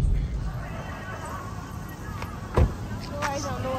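A sick horse gives a neigh, with voices talking throughout; the call sits under the speech and is marked by a brief louder burst in the middle.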